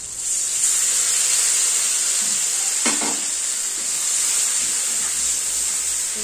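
A paste of green chillies and dried red chillies sizzles loudly in hot oil with fried potato and eggplant, a bright constant hiss interrupted by one sharp clatter of stirring near the middle, with no talking.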